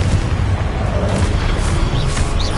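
A Confringo spell explosion in Hogwarts Legacy, heard as a loud, dense booming burst with a rumbling low end that fills the whole moment, with no talk over it.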